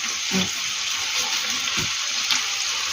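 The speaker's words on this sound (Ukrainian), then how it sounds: "А собі прожарюється з двох сторон хорошо" Meat frying in oil in a pan gives a steady, close sizzling hiss with small spits and pops throughout.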